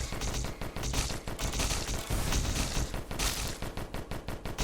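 Dense, rapid bursts of game explosions from rockets and shrapnel in the shooter DISFIGURE, crackling like a continuous fusillade with no pauses and no speech over it.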